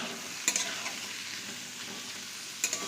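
Chopped vegetables sizzle steadily in hot oil with a little ghee for fried rice, with a spatula stirring and scraping the pan in two brief clanks.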